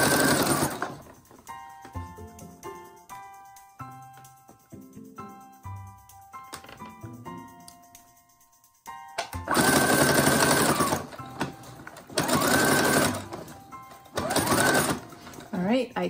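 A sewing machine stitches the closing seam of a fabric couch pillow in several loud whirring bursts, following quieter plucked musical notes at the start.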